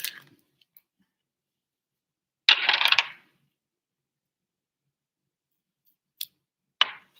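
Scissors snip off a small piece of blue bucktail at a fly-tying bench: a brief, close crisp cut in otherwise quiet surroundings, with a couple of tiny handling clicks.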